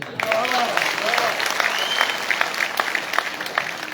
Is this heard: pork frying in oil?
no